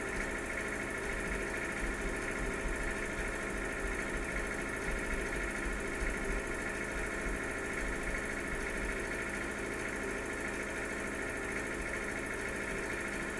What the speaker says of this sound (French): Et même en descente, il roule aussi vite le tracteur.